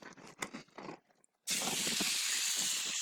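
Chicken and shrimp hit a hot griddle slicked with vegetable oil, bursting into a loud, steady sear that runs unbroken after a few quiet handling sounds and some talk.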